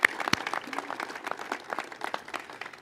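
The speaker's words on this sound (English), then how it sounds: "They actually deserve a huge round of applause for all their terrific work to get us to where we are today." Scattered, fairly faint applause from an audience at an outdoor Purple Line groundbreaking ceremony, with irregular individual claps spread over a few seconds.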